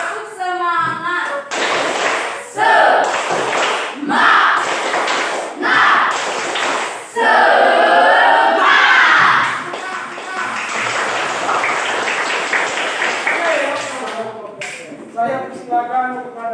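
A group performs a rhythmic Indonesian spirit clap (tepuk semangat) during a classroom session, sharp bursts of hand claps in patterned sequences alternating with chanted group voices, loud and close.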